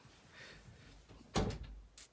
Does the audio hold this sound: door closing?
yes